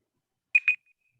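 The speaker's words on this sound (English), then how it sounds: "Oh, there's my timer." A timer alarm sounds at a forum in two short, bright electronic beeps in quick succession, fairly loud and alone in a quiet room, with a faint tail afterward.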